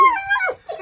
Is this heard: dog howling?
yes